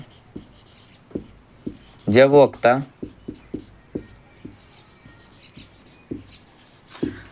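Marker or chalk writing out a definition on a classroom board, a run of short strokes and taps, with a voice talking at points over the scratching.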